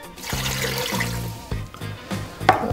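About four cups of water are poured into a pressure cooker holding beef tripe, a loud, close splashing and gurgling stream that fills the whole moment.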